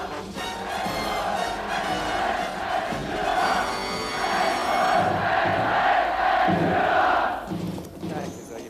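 A massive crowd at a Nuremberg rally roaring and chanting in unison, a dense, sustained wall of cheering voices that swells and holds for several seconds before easing off.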